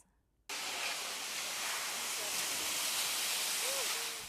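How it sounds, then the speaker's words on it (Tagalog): Typhoon Yolanda: loud, steady broadband roar of rushing floodwater and strong wind that cuts in abruptly after a brief quiet start and continues unbroken. "Rumaragas ang tubig kasabay ng hagupit ng malakas na hangin."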